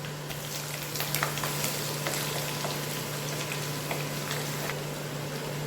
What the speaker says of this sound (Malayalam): കടുക് അങ്ങനെ പൊട്ടുന്നു അതിലേക്ക് നമുക്ക് അരിഞ്ഞു വെച്ചേക്കുന്ന വെളുത്തുള്ളി ഇട്ട് കൊടുക്കാം